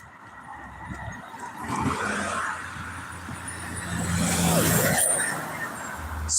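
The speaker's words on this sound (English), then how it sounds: "Here comes that fire truck coming back by." A fire truck rolls by on a road, its heavy engine rumble building from near-quiet to a loud peak and then fading slightly, with a brisk mechanical hiss near the loudest point.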